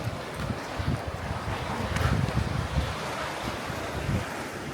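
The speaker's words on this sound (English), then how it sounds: "I think I hear water sloshing down underneath" Water sloshing beneath a sea of concrete jacks under a walkway on a Northern California jetty, a steady low churning wash with soft surges, mixed with wind buffeting the microphone.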